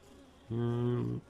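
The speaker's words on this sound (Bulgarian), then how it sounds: "Навсякъде между рамките има пчели." A bee buzzes briefly and close among the frames of a honey bee hive, a short tonal drone under a second long rising out of a quiet background.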